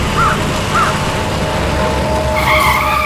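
Loud tire squeal of a car skidding, a wavering screech over engine rumble, rising to a sharper squeal near the end.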